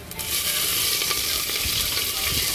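Chillies and garlic fry in hot oil in a pan, giving a close, steady crackling sizzle that carries on evenly with no talking.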